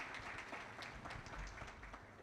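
Audience applause for panelists at a university leadership panel, steady dense clapping from a hall crowd, fairly faint and distant, continuing alone without speech.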